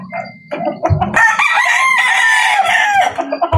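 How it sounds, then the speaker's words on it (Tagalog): A gamefowl rooster, a hennie cross over regular grey, crows one long, loud, close call after a few short clucks. "Bali, ito yung lumabas mga kamanok ko."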